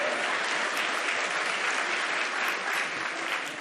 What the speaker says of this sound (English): go ahead, clap if you want.